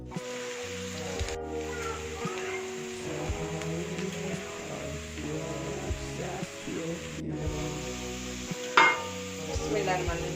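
Cluster beans stir-fried in a pan with a spoon, giving a steady low sizzle under repeated scraping and stirring strokes, with a louder clatter near the end.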